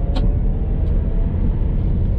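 A Chevy Bolt EV electric car (2017 or 2018 model) cruising at about 30 mph, giving a steady low road rumble and tyre noise inside the cabin without breaks.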